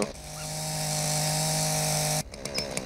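A chainsaw in the video game Dinosaur Fossil Hunter saws a fossil apart, running as a steady, loud droning whine that cuts off abruptly near the end and leaves short clattering bursts.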